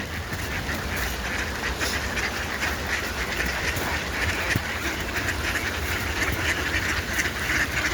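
A crowd of ducks quacks continuously and loudly all around, their overlapping calls forming a dense, unbroken chorus with no pauses.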